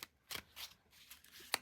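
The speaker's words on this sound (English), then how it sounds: "And then I'm going to shuffle the tarot deck here." A tarot card deck being shuffled by hand: a few soft, scattered papery riffles and flicks, close and quiet, with gaps between them.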